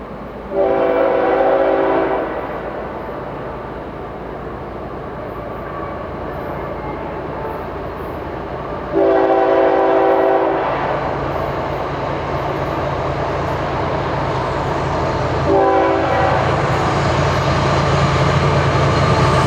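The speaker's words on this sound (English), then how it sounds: "At 6:49, train 204 passed through New Smyrna Yard at track speed" FEC freight train led by EMD locomotives, including SD40-2 road power, passing through New Smyrna Yard at track speed, with a loud steady rumble of rolling cars and three separate horn blasts near the start, middle and end.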